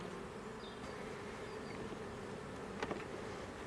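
Honeybees at an open hive with a honey super being fitted, giving a steady, diffuse buzzing hum with a brief louder pass near the end.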